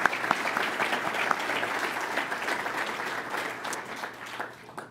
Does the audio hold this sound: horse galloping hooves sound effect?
no